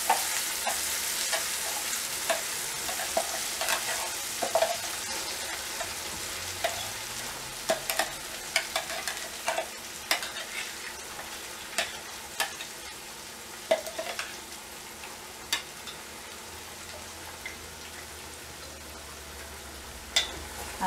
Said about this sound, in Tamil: இப்போ வந்து அரைச்சி வச்சிருந்த தக்காளி பேஸ்ட்டை வந்து இந்த எண்ணெயில் ஆட் பண்ணிடலாம்.